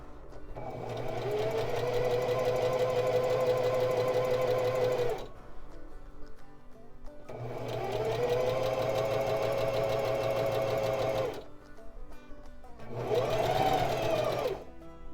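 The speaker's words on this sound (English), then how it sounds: "we're gonna sew this line of straight stitch inside the seam allowance" A sewing machine runs a straight stitch line along a seam allowance, humming and chattering steadily in three close bursts, two long and one short, separated by brief pauses.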